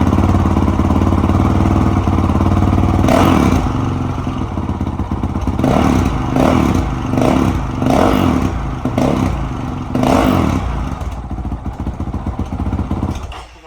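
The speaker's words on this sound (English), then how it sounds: "So here we do a sound test. We're gonna crank it up. It has a baffle in it right now, or a spark arrestor." A Honda 450L motorcycle engine runs with a spark arrestor baffle fitted in the exhaust. It holds a loud, steady drone close by, broken by several sharp revs and blips in quick succession, with no voices.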